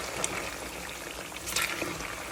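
A pot rendering down on a stove bubbles with a soft, steady simmer, with small gurgles and pops over a continuous low wash.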